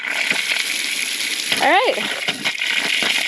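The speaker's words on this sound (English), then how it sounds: "when I turn this on, water should come out" Water gushes steadily from a pipe in an off-grid tiny house, a constant loud rush with a brief squeaky tap or valve sound partway through and a short spoken remark over it.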